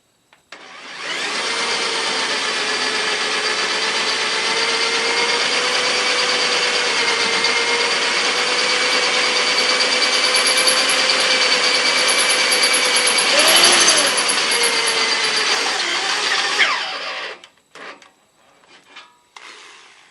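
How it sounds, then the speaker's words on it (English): A power drill bores through a steel skid plate on a Jeep TJ Wrangler, whining steadily at high pitch for about fifteen seconds, close up, then cuts off, followed by a few faint clanks. "I'm going to finish drilling these two holes and put the bolts in"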